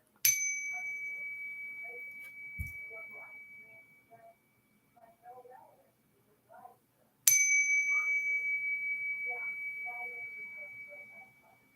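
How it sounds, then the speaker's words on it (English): A small bell rung twice several seconds apart, each strike a clear ringing tone that slowly fades, with faint talk in between. "I need to ring a bell for quick because that was a lot."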